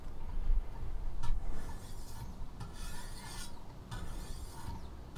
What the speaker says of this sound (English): We got the correct angle set here on our sharpener, thanks to the line that we drew with the Sharpie, and we're ready to go ahead and start sharpening.